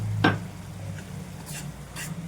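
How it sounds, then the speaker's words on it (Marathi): Pav bhaji with turmeric is stirred and sautéed in a pan, giving a soft sizzle under a few brief scraping strokes of the spoon, close and fairly quiet. "चांगलं परतून घ्यायचं, शिजायला द्यायचं."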